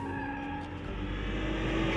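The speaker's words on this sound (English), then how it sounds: "the M2 can be drifted with confidence, an ability which Gugu exploited to the full" A BMW M2 drifting on a race track, its engine droning steadily while the tires squeal and scrub continuously and loudly throughout, with no talk.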